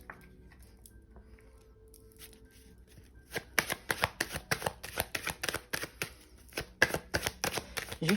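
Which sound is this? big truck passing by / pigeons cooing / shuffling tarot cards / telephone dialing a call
shuffling tarot cards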